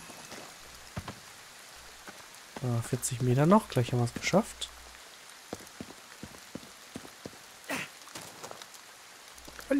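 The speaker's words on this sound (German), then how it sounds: "Hey, es regnet mal wieder." Rain falls steadily in the video game Ghostwire: Tokyo, a soft continuous patter that runs under someone talking through most of the stretch.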